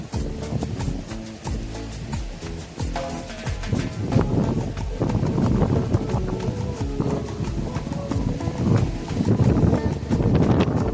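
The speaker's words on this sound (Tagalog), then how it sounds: "Lakas ng hangin." Strong wind buffets the microphone in a constant loud roar, with gusts rising and falling and scattered knocks and rustles throughout.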